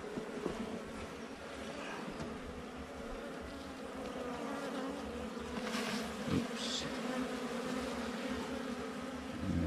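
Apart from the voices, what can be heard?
honeybee swarm buzzing around a hive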